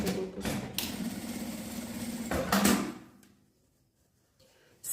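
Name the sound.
sewing machine stitching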